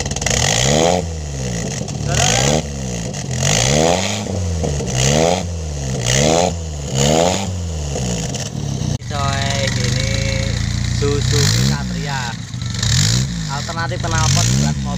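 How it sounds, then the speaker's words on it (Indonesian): A Colt T120 pickup fitted with a Satria motorcycle exhaust revs repeatedly, about eight rhythmic throttle blips rising and falling, loud and close, then drops toward idle with a few further revs, under a steady roar. "Alternatif knalpot buat mobil-mobil tua, pickup."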